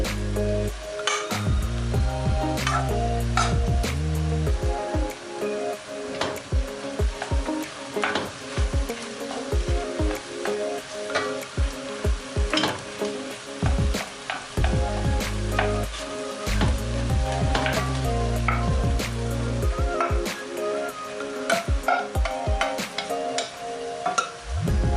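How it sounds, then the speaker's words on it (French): Rice poured into a hot pan of vegetables and fried, a steady close sizzle with scraping stir strokes and occasional utensil clinks, pulsing louder in bursts as it is moved around; no talking. "Maintenant, je viens mettre du riz."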